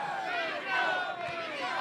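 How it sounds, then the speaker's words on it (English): A large grandstand crowd at Skagit Speedway roars and cheers for the winner of a Kubota High Limit sprint car race, a loud, sustained wave of shouting that swells briefly in the middle. "listen to the crowd"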